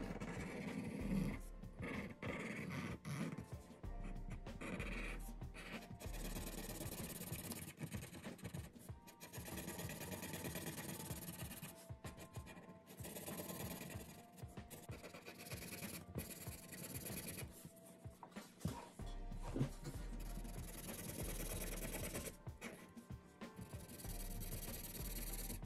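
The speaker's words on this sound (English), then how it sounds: "Now I'm going to use a thick Sharpie for the outline." A thick Sharpie marker traces a portrait outline of Thomas Jefferson on paper, producing long stretches of close, scratchy rubbing strokes broken by brief pauses, with no speech.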